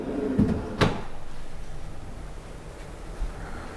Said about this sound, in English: Just open up a few more drawers here.